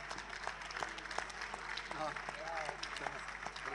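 An audience at a sports talk in Molfetta applauds with dense, continuous clapping, moderately quiet, while voices carry on over it.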